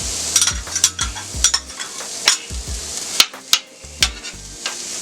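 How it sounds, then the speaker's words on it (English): Diced onion sautés on a hot steel griddle, crackling steadily while a metal spatula scrapes and taps against the surface in quick, uneven strokes, close and fairly loud with no talking. "So I just got some diced up onion here, and we're going to just get that sauteed down just a little bit."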